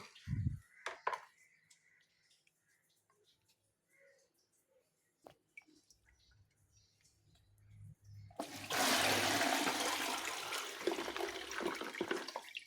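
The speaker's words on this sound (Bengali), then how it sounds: "এই ঝুড়ির মধ্যে জলটাকে ছেঁকে নেব" Water poured through a basket into a bucket in a garden, starting as a few faint splashes and then becoming a loud, steady rush of pouring water close by.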